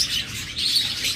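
Brief high chirping calls from female ringneck parakeets kept for sale, bright and fairly close, a short burst of tweets with no talking.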